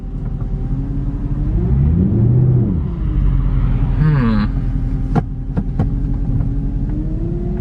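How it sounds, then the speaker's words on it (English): Engine of a salvage Mercedes C63 revving hard in repeated rising and falling surges, loud and close, with a deep throbbing rumble underneath and a few sharp clicks near the end. "Where I rev it and it doesn't go."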